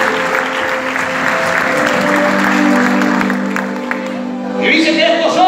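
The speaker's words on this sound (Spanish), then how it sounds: "Denle un fuerte aplauso, suba," Audience applause and cheering at a church gathering, a dense steady clapping crowd with a held tone underneath, swelling near the end.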